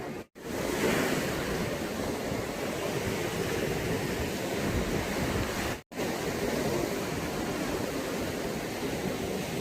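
Strong sea waves crash against the white rock platform at Lan Hin Khao, Mae Ramphueng Beach in Rayong, a loud, continuous surf roar heard up close from on the rocks, with two brief dropouts.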